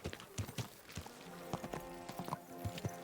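Horse hooves clip-clop in an uneven trotting rhythm in the video game Kingdom Come: Deliverance II, soft and somewhat distant, with faint background noise.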